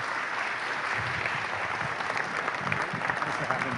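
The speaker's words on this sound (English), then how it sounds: "Let's give a big round of applause for Leslie Dach." A crowd claps steadily in a sustained burst of applause, dense and even throughout, with some faint voices mixed in.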